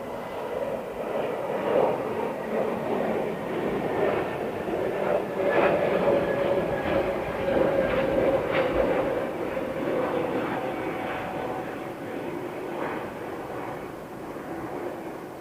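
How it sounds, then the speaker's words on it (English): A jet airliner takes off at London Heathrow Airport, a steady broad engine roar holding loud and close throughout, slowly easing near the end, with no talk over it. "Wow, very, very short takeoff."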